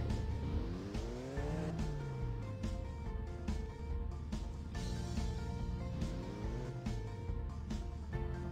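Car driving in a car transporter parking video game, engine revving with repeated rising gear-shift sweeps, tire squeal and steady motor drone, continuous with no talk.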